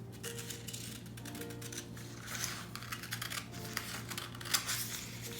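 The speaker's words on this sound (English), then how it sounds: "I only need to cut this piece right here" Scissors cut through a fabric scrub cap pattern piece in a steady run of soft, crisp snips, close and quiet over a faint background hum.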